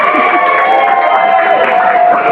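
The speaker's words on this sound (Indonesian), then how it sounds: "Tepuk tangan untuk kelompok Hujan Bulan Juni." A classroom group cheering and clapping for a student group after a performance, a steady loud burst of crowd noise with shouts and voices mixed throughout.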